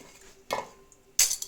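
A metal pot of broth for pickle soup clanks onto a stove twice, two short sharp knocks separated by a brief quiet gap, close and fairly loud.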